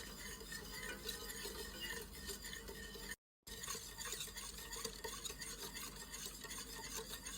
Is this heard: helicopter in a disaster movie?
no